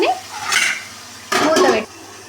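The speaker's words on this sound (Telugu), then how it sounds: "టమాటాలు వేసుకొని కొంచెం కలుపుకొని" Tomatoes are stirred into golden fried onions in a pan for a cauliflower curry. Two loud bursts of spoon-on-pan scraping and clatter come over a low hiss, with no voices.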